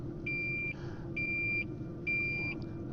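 A Toptes CT-580 gas detector runs its startup self-test, sounding three evenly spaced high-pitched electronic beeps of about half a second each over a steady low background hum, with no talking.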